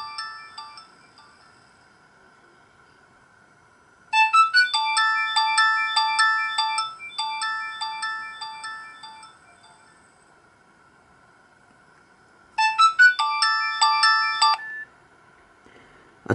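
Polyphonic ringtone of an incoming call on a Nokia 2600 (RH-59) mobile phone, a bright beeping melody playing in two loud bursts separated by a quieter steady tone, heard up close with no talking.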